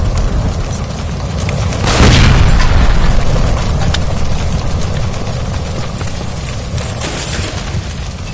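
A gas line by a stove blows up after being shot, a heavy deep boom swelling over a constant roar of noise, loud and close, then rumbling on.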